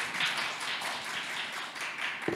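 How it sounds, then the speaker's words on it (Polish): Audience applause at a live panel debate on the circular economy, a steady wash of many hands clapping throughout, fairly even in loudness with no voices over it. "Wielkie brawa dla uczestników panelu."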